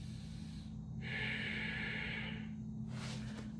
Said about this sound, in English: The air fills the lower abdomen and the air empties from the lower abdomen